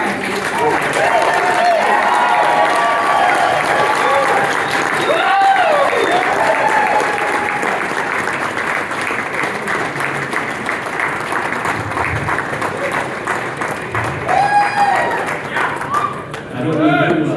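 Sustained applause from an audience at an award ceremony, dense steady clapping filling the room throughout, with a few voices and cheers mixed in near the end.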